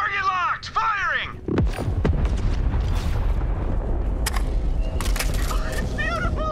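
Weapon blast and booming explosion in the Borderlands 3 video game, a loud rumbling detonation that rolls on under game effects and a voice.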